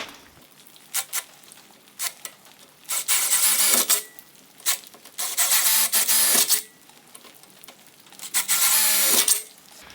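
A Bosch 18-volt power drill pre-drills a hole with a small bit for a wall-mount garage door opener, whirring in several short bursts with pauses, the motor loud and close, grinding as the bit bites.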